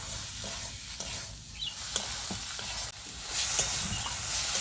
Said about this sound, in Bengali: এভাবে নাড়াচাড়া করে মিক্স করে নেব